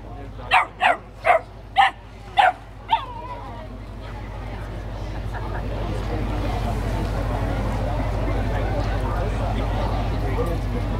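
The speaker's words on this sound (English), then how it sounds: "we'll back and bark on command" A Kelpie barks six times in quick rhythmic succession at an outdoor dog auction, loud and close, followed by a rising crowd hubbub and steady background noise.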